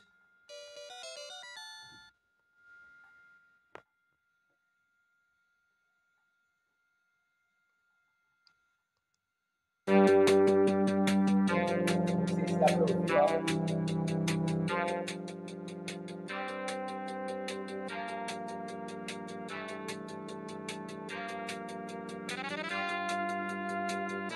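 Chiptune-style electronic beeps and blips from an FPGA-based MSX computer running C-BIOS, then a pause with a few clicks, then a long stretch of busy synthesized game music played back through a small speaker.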